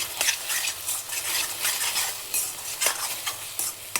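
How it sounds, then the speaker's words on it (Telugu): Ginger garlic paste being stirred and fried in a pan while cooking paneer butter masala curry, with steady close sizzling and repeated scraping stir strokes, no talking. "ఇది బాగా కలుపుకుందాం. అల్లం వెల్లుల్లి పేస్ట్ ఫ్రై అయ్యే వరకు"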